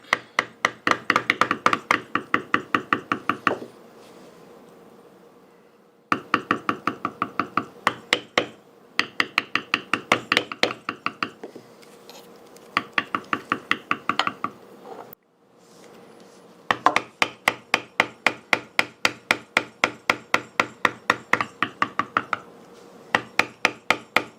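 Repeated rhythmic filing strokes on an edge being beveled, coming in several bursts of quick even rasps separated by short pauses, close and fairly loud with no talking.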